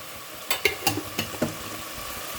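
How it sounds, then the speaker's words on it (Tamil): Masala with chili powder sautéing in a pan, a soft sizzle under a handful of quick scraping stirs that cluster in the middle of the clip, close and without talk. "பச்சை வாசனை போகிற வரைக்கும் நாம் வதக்கிக்கலாம்"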